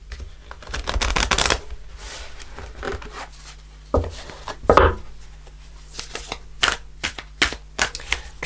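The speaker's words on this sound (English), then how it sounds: "I'm just shuffling the cards from the Sacred Traveller deck" Tarot cards from a Sacred Traveller deck being shuffled close up, with repeated riffling bursts and crisp flicking clatter coming in uneven waves, loud and alone with no voice over them.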